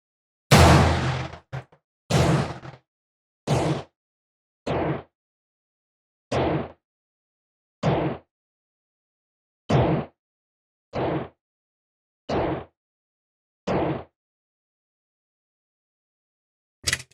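A Ruger Mark III Hunter pistol with a fluted barrel fires roughly ten loud, sharp reports on an outdoor range, each crack cut short and separated by one- to two-second pauses of silence.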